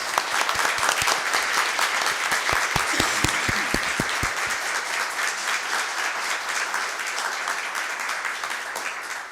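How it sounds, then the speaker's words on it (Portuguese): Audience applause fills a city council chamber during an ordinary council session in Caieiras, steady dense clapping from many people lasting throughout, with a few sharper individual claps standing out early on. "merece uma salva de palmas"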